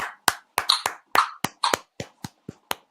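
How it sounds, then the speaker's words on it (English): A round of applause on a sports-betting show, heard as a dozen or so sharp, separate hand claps in an uneven rhythm, close and fairly loud with silence between them. "A round of applause for Andrew"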